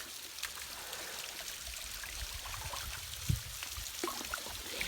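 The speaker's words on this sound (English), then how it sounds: "Got a cute little waterfall here coming through the rocks." A small waterfall spilling through rocks on a river, a steady, soft rushing and trickling wash heard from nearby, with an occasional faint splash or knock.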